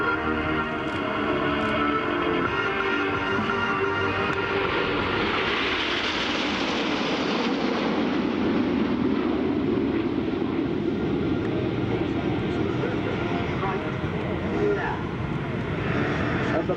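RAF Red Arrows jets fly in formation at the 2015 Sanicole air show with a broad jet roar that swells and sweeps overhead, then fades. A commentator speaks over a public address system throughout.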